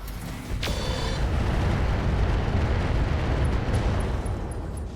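Weapons fire slams into a Griffin mech in the RogueTech battle game, a sharp impact burst followed by a loud, sustained rumbling roar of explosions that fills the whole stretch.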